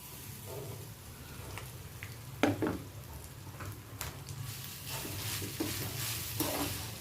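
Grated coconut sautéed in a pan for a bottle gourd curry, a soft continuous sizzle broken by scraping stirs of a spoon against the pan, close and fairly quiet with no talking.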